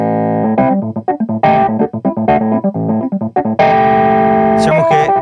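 A keyboard played through a keyboard amp with a distortion effect engaged, a gritty, buzzing run of choppy notes and chords that ends in a sustained, saturated chord, loud and close.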